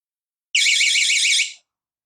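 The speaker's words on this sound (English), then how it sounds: "we get an alarm." A shrill electronic water leak alarm, made from a cheap window alarm, sounds for about a second in a fast warbling trill, loud and close, then stops abruptly.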